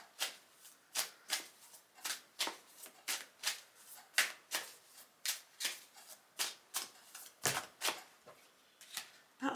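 A deck of tarot cards is shuffled by hand in quick, regular riffles, about two crisp bursts per second for nearly ten seconds, close and clear with no talking.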